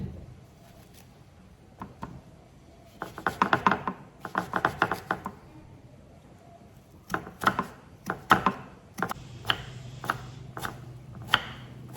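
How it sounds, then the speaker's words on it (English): A knife chops half an onion very finely on a board, with quick irregular bursts of close, crisp cutting strokes separated by short pauses. "I'm gonna take half an onion and I'm gonna cut it very fine."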